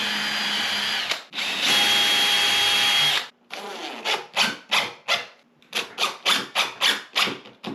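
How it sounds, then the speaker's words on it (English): A power drill with a 3/32 drill bit bores a small pilot hole while closet doors are being fitted with rollers. It gives two sustained whines, then a run of short rhythmic bursts as the trigger is pulsed on and off. "we're gonna use a 3/32 drill bit, drill a tiny pilot hole in here"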